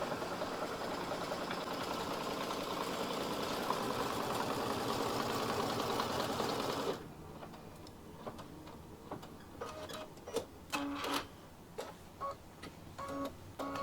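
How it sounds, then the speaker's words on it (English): An embroidery machine stitching a felt Christmas gift tag at 600 stitches per minute, a steady fast mechanical whir that stops halfway, followed by quieter scattered clicks and ticks. "I'm stitching all this out at 600 stitches per minute"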